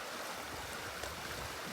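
Creek water flows steadily in a wooded spot among trees, a continuous soft rushing wash with no voices, fairly quiet and even throughout.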